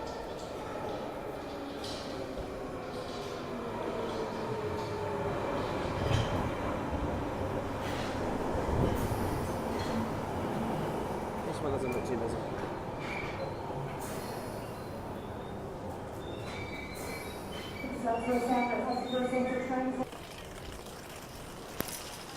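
A London Underground train heading toward Hammersmith rumbles steadily with rolling wheel noise and rattling carriage sounds, rising toward a brief squealing, tonal stretch near the end as the train slows.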